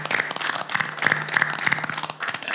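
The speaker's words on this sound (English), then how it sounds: "let's give them a big round of applause." People at a city commission meeting in San Juan give a short round of applause. Fairly close, uneven clapping comes from a modest group, with a steady background hum and brief dips in the clapping.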